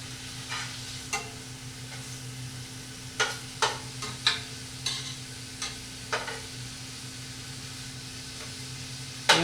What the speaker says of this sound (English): I want to keep moving this around so that the oil gets on everything, including the rosemary.